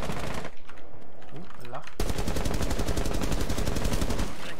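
Rapid automatic gunfire from Rainbow Six Siege, a sustained loud burst of close shots that fills the second half, after a brief stretch of talk and other game noise.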